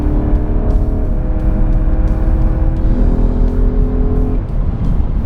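A BMW E90 M3 engine revs hard above 5,000 RPM, a loud, sustained screaming whine with rising and falling pitch, close by and with no talking.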